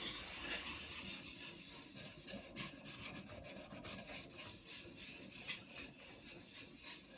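A blade is rubbed back and forth on the fine side of a new diamond sharpening stone wet with fluid, making a quiet, gritty rasping in steady repeated strokes.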